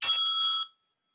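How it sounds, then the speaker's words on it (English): A bicycle bell stands in for a Rotary meeting bell and gives a single bright metallic ring, close and loud, that decays within about half a second and leaves silence. "we have our stand-in Rotary bell."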